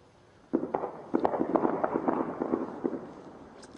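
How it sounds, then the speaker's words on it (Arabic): Heavy gunfire in Nasib, Daraa: a rapid string of distant, sharp cracks and pops that blur into a sustained rattle, fairly faint over background hiss. "إطلاق نار في بلد نصيب منذ أكثر من 3 ساعات"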